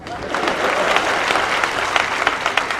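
Applause rises from the crowd at a Kannada comedy show, a dense, fairly loud wash of clapping that continues steadily throughout, with some voices mixed in.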